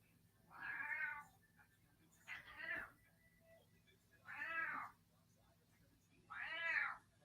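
A cat meows four times, drawn-out calls evenly spaced about two seconds apart, fairly close in a quiet room with a low hum beneath.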